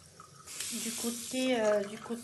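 Warm tap water running over hands being washed at a sink, a steady close rush with splashing, heard partly under a woman's speech.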